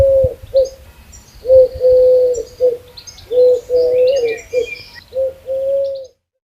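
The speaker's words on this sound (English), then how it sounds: "Dove." A dove coos close by in a run of soft, low, repeated phrases, with a few brief pauses between calls.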